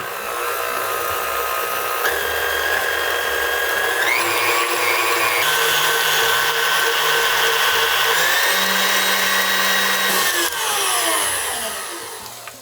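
An electric mixer whips cream for protein pudding in one continuous high whine, loud and close, with its pitch shifting a few times as the speed or load changes.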